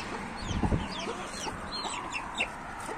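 Chickens cluck and a rooster calls in a brief burst close by, with a few short squawks and chirps over quiet farmyard background, where hens with chicks and a black rooster are kept.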